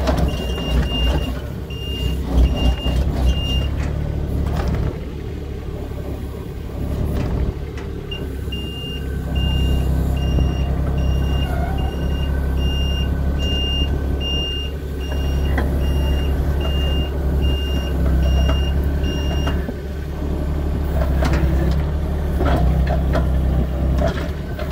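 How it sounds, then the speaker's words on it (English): An excavator engine runs steadily while a reversing alarm sounds repeated evenly spaced beeps, dropping out briefly and then resuming for a long stretch, with no voices. "Driving a bloody excavator."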